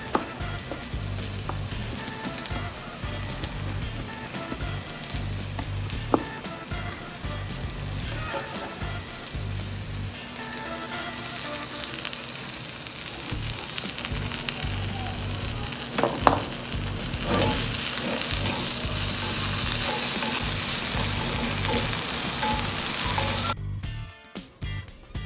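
Chopped onion fries in a pan with a steady, close sizzle, with occasional stirring scrapes and clinks over the continuous crackle.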